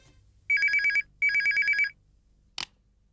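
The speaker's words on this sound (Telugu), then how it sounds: "ఫోన్ చేసింది ఎవరండి?" A telephone bell rings in two loud, evenly spaced bursts in a domestic scene from a Telugu TV serial, then a short click follows and the room goes quiet.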